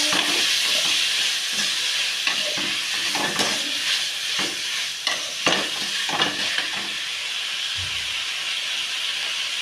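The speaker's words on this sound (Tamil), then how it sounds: "தக்காளியை போட்டுக்கலாம் தக்காளியை நல்லா கிண்டி விட்டுக்கலாம்" Tomatoes frying in a pan for tomato rice are stirred steadily, with a constant close sizzle and hiss broken by scraping spoon strokes, no voices.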